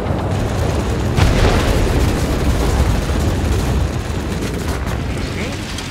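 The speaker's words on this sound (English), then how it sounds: "Bomb away." Bomb blast rumbling out in the World of Warplanes combat flight game, a sustained low booming roar with a sharp burst near the start, mixed with steady engine drone and no clear speech.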